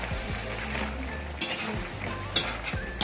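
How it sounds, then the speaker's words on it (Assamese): Sour bamboo shoot being stirred into a pork curry with taro and tomato in a pot, soft scraping and bubbling stirs close by, with a couple of sharper clinks and a low background hum. "গাজ টেঙা লৰাই দিম"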